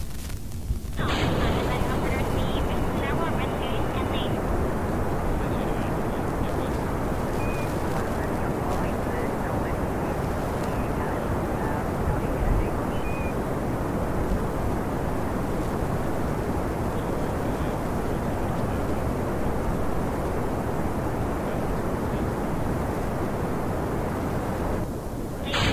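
Rocket engine at full throttle in Kerbal Space Program, a loud, steady roaring rumble that holds unbroken for the whole stretch after a brief quieter start, with a short cut-off at the end.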